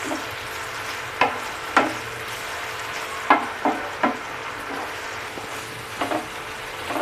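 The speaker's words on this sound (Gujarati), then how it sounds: "ડુંગળી અને ટામેટાને સારી રીતે તેલમાં સતળાવા દેશું" Onions and tomatoes fry in oil for street-style tava bhaji, giving a steady, hissing sizzle broken by several sharp scraping taps of stirring.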